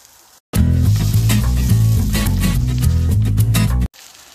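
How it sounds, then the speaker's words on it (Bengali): Chopped onion, ginger and garlic hit hot oil in a pan for carrot soup, giving a sudden loud, crackling sizzle that holds steady for about three seconds and then cuts off. "পেঁয়াজ আর আদা রসুনের কুচিটা একটু ভাজা হলে আমি দিয়ে দিব অন্যান্য উপকরণ"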